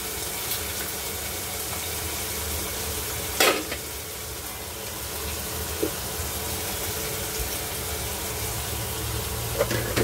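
Cauliflower, carrot, beans and peas fry in a pan with a soft, even sizzle close by, broken now and then by brief clinks and stirring scrapes.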